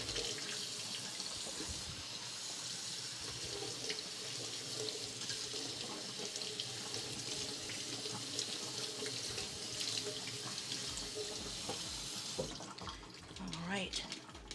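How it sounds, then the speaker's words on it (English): Cold tap water runs steadily into a kitchen sink, rinsing drained cooked macaroni for a Bahamian macaroni pie, a continuous close splashing rush that ends with a brief change as the flow shifts. "we'll give it a rinse in cold water, and that will stop it from cooking"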